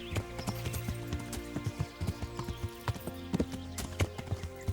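Horse hooves clip-clop at a steady trot in the medieval video game Kingdom Come: Deliverance, with regular close hoof strikes over a low game ambience and no talk.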